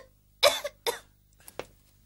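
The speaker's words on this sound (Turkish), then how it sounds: "Öksür yavrum." A child coughs during a doctor's examination, two loud close coughs followed by two fainter, shorter ones, with no talking in between.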